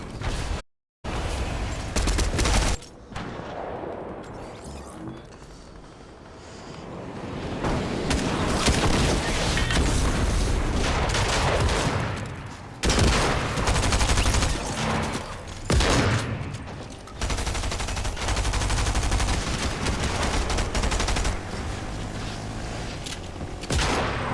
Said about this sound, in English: Glitching around as I'm shooting at him then, bud.